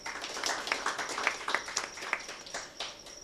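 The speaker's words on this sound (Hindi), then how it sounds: "इसके लिए ज़ोरदार तालियां" Applause from listeners at a literary gathering in Aurangabad, a soft, busy patter of many clapping hands, fairly distant and quiet but continuous throughout.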